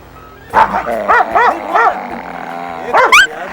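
A dog barks several times in quick, excited yelps and whines, close and loud, with a short pause before a final pair of high yips.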